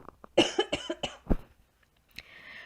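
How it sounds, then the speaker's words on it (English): A few sharp coughs close to the mic, bunched together, then a short pause and one more faint burst. "I got a cough."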